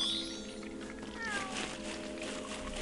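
Crookshanks the cat meows in the video game Lego Harry Potter, a short high cry near the start followed by a drawn-out mewing call over steady game background sound and music.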